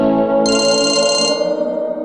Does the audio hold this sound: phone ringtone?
yes